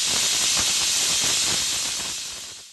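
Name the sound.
pressure cooker whistle while cooking chicken curry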